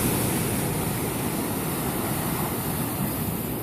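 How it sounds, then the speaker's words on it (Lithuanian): Mediterranean Sea waves break against the rocks at Tel Aviv, making a continuous broad roar of surf mixed with wind noise on the microphone, steady and fairly loud throughout with no voices. "O, kaip ten bangos dūžta į uolas"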